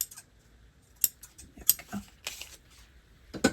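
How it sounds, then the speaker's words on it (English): Sewing scissors snip through paper scraps for a junk journal with a few quick, crisp cuts in an irregular pattern, close by. One short spoken word is heard. "I need my sewing scissors to cut these off."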